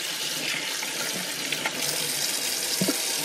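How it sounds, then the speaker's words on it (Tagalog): Water runs steadily from a kitchen tap into a sink while hands are washed during anchovy fermenting prep, a close, continuous splashing hiss with a few faint knocks and no speech. "So, maghugas lang ako ng kamay."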